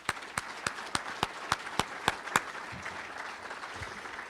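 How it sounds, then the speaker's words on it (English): Audience applause at the M+DEV 2017 keynote in Wisconsin, a roomful of steady clapping with a few sharp, evenly spaced louder claps over the first couple of seconds, then a continuing wash of applause. "I want to give 1 minute of applause to those people who put Raven together"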